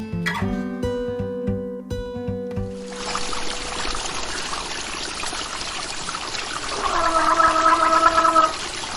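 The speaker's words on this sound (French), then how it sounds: "c'est le bruit de l'eau qui coule sur le pont Hendrix" Sava river water rushes and gurgles beneath the blue Hendrix railway bridge in Zagreb, a steady broadband flow after a few seconds of tonal notes, with a brighter tonal swell near the end.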